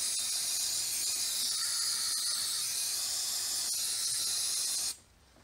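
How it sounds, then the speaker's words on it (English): A steady, close aerosol hiss of brake cleaner being sprayed into a Focus ST's brake area for about five seconds, then it cuts off abruptly. "spray some brake cleaner up in there"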